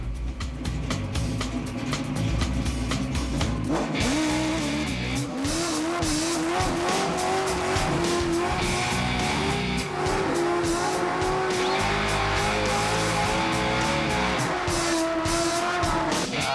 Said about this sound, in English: the first initiation is a burnout deal